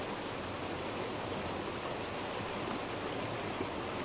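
Water in a creek rushes and burbles in a steady broadband wash, close and continuous, with no voices over it.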